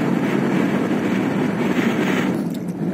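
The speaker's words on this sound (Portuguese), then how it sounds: "Foi o dia que a gente pegou mais vento." Strong wind buffets the microphone on Ruta 3 between Ushuaia and Rio Gallegos, a loud, steady broadband roar with no break, carrying the rush of travel on an open road and no voices.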